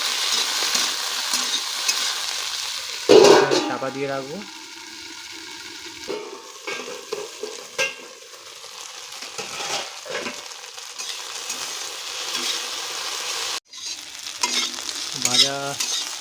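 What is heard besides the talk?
okra and egg bhurji frying in a pan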